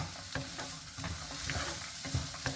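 A spoon stirs and scrapes through vegetables, including green peas, and oats frying in a hot pan, with a steady sizzle and repeated close scraping strokes.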